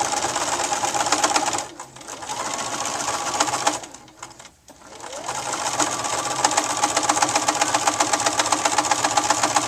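A sewing machine stitches a plush Easter egg in fast, rhythmic runs, pausing briefly twice before resuming, close and loud with no talk.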